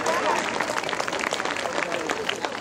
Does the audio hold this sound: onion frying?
no